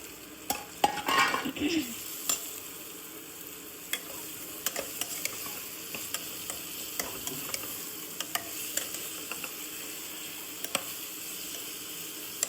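Prawns sizzle as they are stirred into a masala of tomato and green chilli, a steady fry under repeated scrapes and clinks of a spoon against the pan, with no speech.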